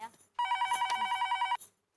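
A telephone bell rings in one sustained, rapidly trilling burst lasting about a second, close and clear, with faint room sound before and after.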